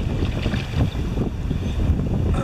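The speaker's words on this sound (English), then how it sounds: "The wind's just slowing us down." Wind blows steadily across the mic while canoeing on the Allegheny River, a continuous low rumbling buffet with faint water movement and no voices.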